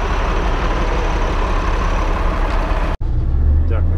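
A heavy engine drones loud and steady from a Kamaz or Mercedes dump truck driving to a depot to load gravel. The roar cuts out briefly near the end, then comes back with a deep low rumble.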